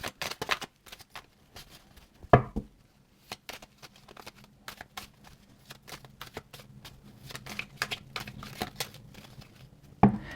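Tarot cards shuffled by hand in a steady run of soft papery riffles and flicks, close and fairly quiet, with a couple of sharper slaps and no talking.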